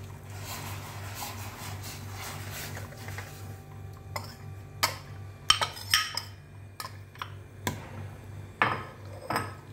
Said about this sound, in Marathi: हलवत राहणे, त्याची गाठ होऊन द्यायची नाही